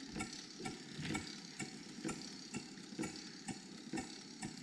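A Corliss steam engine running at steady governed speed, giving a regular rhythmic ticking and clacking roughly once per half second over a low mechanical hum, moderately faint and without talk.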